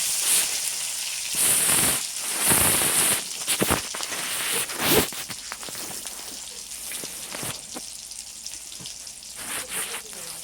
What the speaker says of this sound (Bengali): তেলের মধ্যে দিয়ে দিলাম পাকা টমেটো। টমেটোটা সুন্দরভাবে হালকা একটু ভেজে নিলাম।